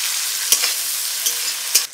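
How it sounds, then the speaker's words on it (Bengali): Chopped tomatoes frying in a pan for a Bengali vegetarian kochu curry, a steady bright sizzle with a few soft stirring clicks, close and alone without talk. "টমেটো কুচিগুলো দিয়ে দেব, একটু ভেজে নেব টমেটো কুচিগুলো"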